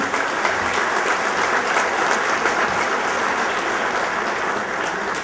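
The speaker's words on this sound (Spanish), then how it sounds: "El aplauso para CSI Ingeniero." Award ceremony audience giving a sustained round of applause for the engineering firm CSI Ingeniero, many hands clapping in a full, even roar that carries steadily throughout.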